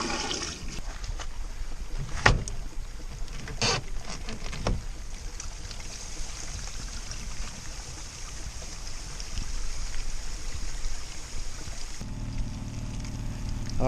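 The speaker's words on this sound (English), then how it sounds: "Like to flush it once or twice to give it a rinse." Water rushes through an RV holding tank being flushed and rinsed, a steady close hiss of flow lasting throughout with a few brief louder splashes, then a duller churn near the end.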